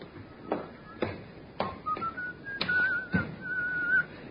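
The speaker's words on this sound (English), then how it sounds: "that fellow there, whistling" A man whistles a short tune over scattered sharp taps and footsteps, fairly close and moderately loud.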